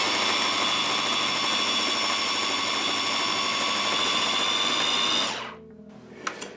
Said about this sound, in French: c'est en train de couper en petits morceaux, ça fait pas de la charpie, c'est vraiment un hachoir